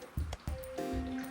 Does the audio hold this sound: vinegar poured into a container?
yes